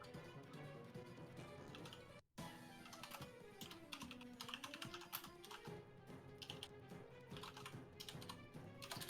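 Keys clatter on a computer keyboard as Baron von Sheepington types in a role-playing game session, a busy stream of light clicks with one brief gap, heard quietly beneath faint background music.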